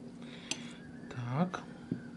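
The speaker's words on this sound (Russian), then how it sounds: "Извиняюсь, что я так прям это бурно стучу по стеклу." A few sharp, close taps ring on a glass dish as a banana is cut for homemade banana ice cream, spaced irregularly over a couple of seconds, with a brief murmured voice between them.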